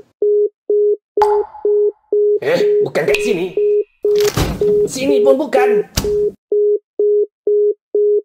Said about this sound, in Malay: Lah, jam tangan aku ke yang bunyi?